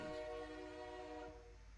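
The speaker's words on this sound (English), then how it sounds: "Train's pulling in." A video-game train pulls into a station, with a sustained tonal horn or whistle and a low rumble that fades slightly as it arrives, heard alone.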